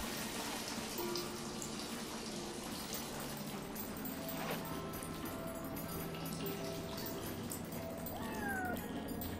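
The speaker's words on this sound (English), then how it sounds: "Okay, so apparently there's another cat here somewhere." A cat meows in the video game Yonder: The Cloud Catcher Chronicles, short mewing calls rising above a steady bed of rain-like ambient sound, moderately distant and never loud.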